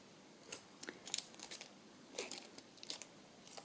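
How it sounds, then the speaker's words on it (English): Scissors snip the sticky end off paper for a flip-out folio craft project, a series of small crisp cuts and crinkles in an irregular rhythm, close and fairly quiet with no talk. "I think it's just going to trim off the endy bit. Scissors."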